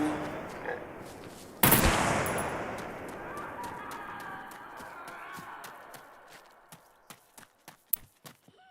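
A single loud gunshot from a weapon in SCUM cracks out and rings off in a long fading tail, followed by a series of sharp ticking clicks like reloading or footsteps, with no talking.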